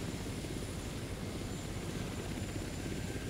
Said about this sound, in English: to bring our equipment in, it gets airdropped by helicopter